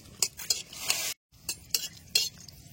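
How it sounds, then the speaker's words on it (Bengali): Three dried red chillies fry in mustard oil in a pan in a rural village kitchen, giving a close crackling sizzle broken by sharp spoon scrapes, with a brief pause partway through. "এবারে অল্প সর্ষের তেল দিয়ে দেব।"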